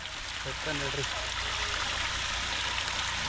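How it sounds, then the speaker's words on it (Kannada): Water splashes and streams steadily as it is poured out at an outdoor village cooking of chicken curry, a continuous wash of gushing sound with a brief voice over it near the start. "ಇವಾಗ ನೀರು ಚೆಲ್ಲ ಹೇಳ್ತೀನಿ"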